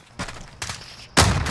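Gunfire in Call of Duty Warzone during a late-circle fight, three short bursts of shots, the last one louder and longer, fairly close with no talking.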